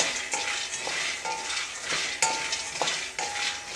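Peanuts dry-roasting in a pan over a medium gas flame, stirred steadily, give a rattling scrape with faint sizzling and a repeated clink of a spoon against metal, close up, with no voices.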